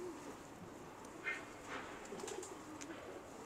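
Pet pigeons in a fancier's loft give faint, low cooing against a steady background hiss, with a couple of soft coos in the second half and a brief brighter rustle near the start.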